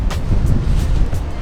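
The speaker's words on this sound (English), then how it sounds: "Boy, it's real windy out here." Strong wind outdoors at a train station in Carcassonne, a steady low rumbling buffet against the microphone with a few brief gusty surges and no talk.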